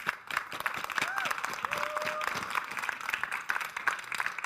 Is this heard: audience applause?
yes